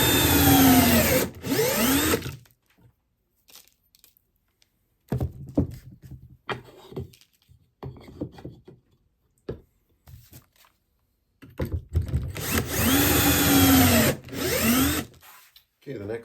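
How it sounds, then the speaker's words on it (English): A power drill bores pocket holes into wooden supports, with two loud whirring bursts at the start and end and quieter tool handling and clunks between them, up close. "The supports that go underneath here, we're going to put in a pocket hole on one side and one on the opposite side"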